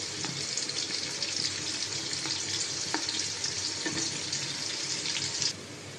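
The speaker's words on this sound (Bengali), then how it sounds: "এখানে পেঁয়াজ আর তেল দিয়ে দিলাম। পেঁয়াজটা ভেজে নেব" Onions sizzle in hot oil in a pot for chicken biryani, a steady close crackle and hiss with a few soft stirring knocks before the sound drops sharply near the end.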